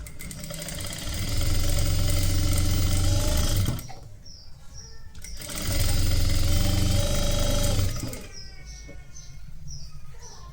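Sewing machine stitching the side seams of a lehenga, two steady whirring runs of several seconds each separated by a brief pause, close and fairly loud, with a voice briefly heard in the quiet gap.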